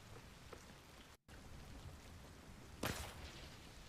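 Steady rain hisses across the ground in Hunt: Showdown, a continuous close wash of drops with a brief dropout and a sharper burst of splashing near the end.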